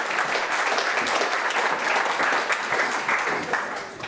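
An audience at a Lean Startup Melbourne lightning-talk event applauds, giving a steady, dense round of clapping for the next speaker that holds for about four seconds, with a faint murmur of voices underneath.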